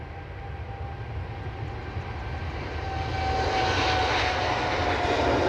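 An aircraft takes off from Edinburgh Airport, heard from on board as the engines spool up into a rising roar with a thin whine, growing louder over a few seconds and then holding strong.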